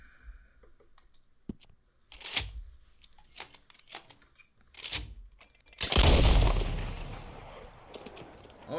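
Gunfire in Red Dead Redemption 2: a few sharp reports spaced a second or so apart, then one heavy, loud blast trailing into a long rumbling decay.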